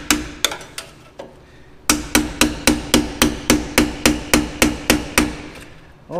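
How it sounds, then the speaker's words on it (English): Steady hammer blows knock a stuck part off a dump truck during exhaust and electrical repair work: a few scattered strikes, a short pause, then a run of about a dozen evenly spaced, loud, ringing metal hits. "hammer this off."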